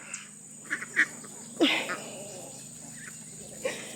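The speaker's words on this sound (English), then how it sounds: "I love having ducks, you guys." Domestic ducks in a backyard flock give a few scattered, fairly close quacks at irregular intervals over a steady low background hum.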